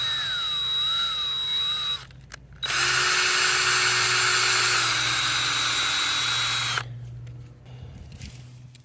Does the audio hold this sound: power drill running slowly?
yes